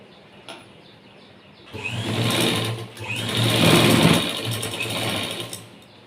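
A sewing machine stitches the shoulder joint of a straight-cut blouse, whirring in two close, steady runs with a short pause between, after a brief quiet start.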